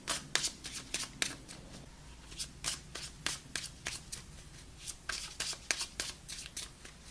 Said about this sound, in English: let's pull some outcome cards